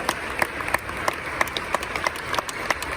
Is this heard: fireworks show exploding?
no